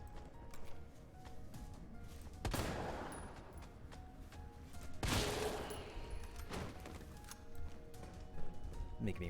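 Gunshots from acid rounds fired in the Resident Evil 3 Nemesis fight, a few sharp broadband bursts over steady game noise and background sounds, with loud single shots spaced a couple of seconds apart.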